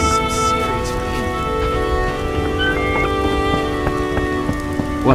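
Heavy rain in The Witcher video game, a steady, dense hiss of downpour on surfaces with faint tonal hum from the game underneath, continuous and fairly loud.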